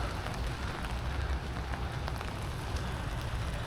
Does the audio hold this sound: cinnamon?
no